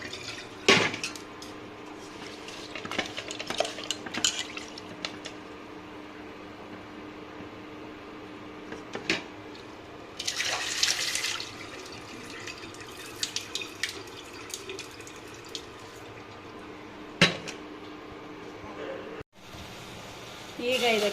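Broken ration rice is rinsed in water in a pot for ragi mudde, with intermittent clinks of the pot, swishing and dripping water in uneven bursts, close by, and a voice heard at times.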